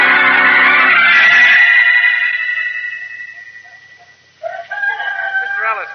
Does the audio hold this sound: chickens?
yes